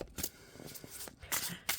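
Tarot cards from a deck being shuffled quickly in the hands, a series of short riffling and slapping bursts at irregular intervals, close and fairly quiet, with no talking.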